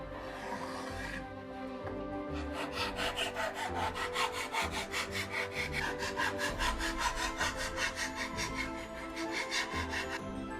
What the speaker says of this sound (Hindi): अब हम रेती से इसकी धार बनाएंगे।